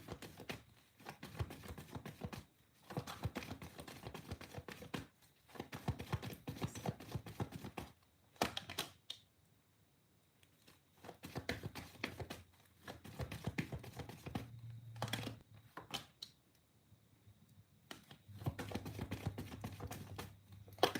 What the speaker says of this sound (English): I'm shuffling before I go mute.